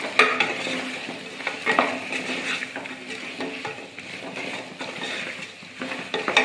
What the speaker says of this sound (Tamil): ஆட் பண்ணிட்டு எல்லாத்தையும் ஒன்றா கிளறி விடலாம்.